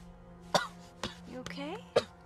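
A man coughs a few short, sharp times close by, with a faint tonal hum and brief voice sounds between the coughs.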